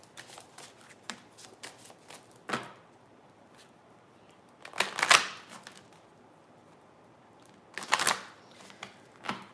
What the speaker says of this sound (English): Let me go ahead and shuffle these cards up a bit.